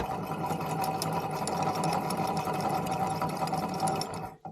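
A rebuilt Avenger 85 engine, freshly cleaned of built-up crud, runs with an even, close, buzzing whir and a rapid mechanical patter. It holds steady until it cuts off abruptly near the end.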